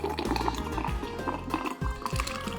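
Freshly made lemonade splashes and gurgles as it is poured into a glass, a busy, close, continuous liquid sound with no talk over it.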